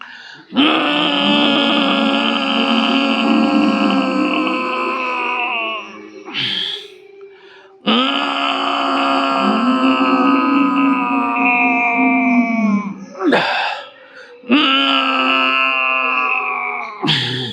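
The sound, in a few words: throat sound imitating snoring, breathing exercise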